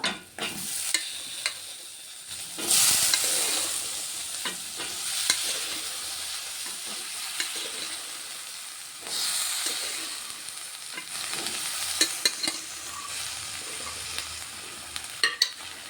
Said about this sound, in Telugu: ఇప్పుడు ఇందులో ఉడికించుకున్న శనగలు వేసుకుంటా